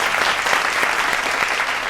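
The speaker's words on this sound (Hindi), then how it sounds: "तो एक बार फिर मैं चाहूंगी जो यहाँ पर बैठे हैं दर्शक जोरदार तालियों के साथ एक बार।" Loud audience applause at a poetry recital event, a dense burst of many hands clapping with a few sharper individual claps standing out, steady for the whole stretch.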